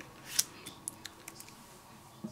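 Scissors snip through a piece of paper being cut out by eye, a few quiet, crisp cuts in a short sequence, close and alone without talking.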